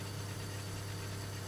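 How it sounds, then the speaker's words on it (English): A car engine over-revving in the video game DayZ, a steady, loud, droning strain with a harsh, grinding edge that holds without a break for the whole moment. "If you shift too late, you'll usually hear this screeching noise."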